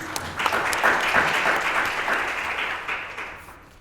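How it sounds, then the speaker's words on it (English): Audience applause at a conference on fair recruitment, a steady round of clapping from a room of listeners that swells early and fades out toward the end. "Round of applause for Alexander, please"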